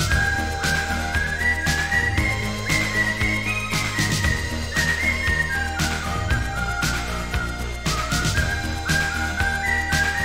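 Someone whistles a bright, wavering tune over a steady musical backing, the melody rising and falling in short phrases.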